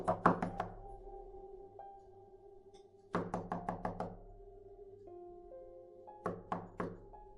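Knocks on a door in a snowstorm horror story come in three separate bursts of rapid, close wooden raps, each cluster followed by a ringing low tone that lingers beneath.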